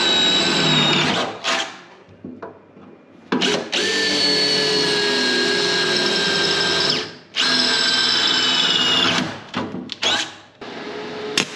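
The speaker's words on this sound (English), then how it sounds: "I'm also going to drill some holes here so I can spot weld it from the back." A power drill whines loudly in several long bursts drilling holes in metal on a Mustang body, stopping and restarting between holes, with brief quiet gaps in between.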